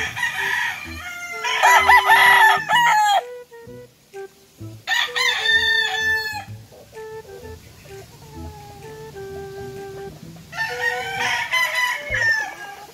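Several young roosters (stags about 8 months old) crow loudly in turn, long strained calls rising and falling, with softer clucking and chatter from nearby fowl between the crows.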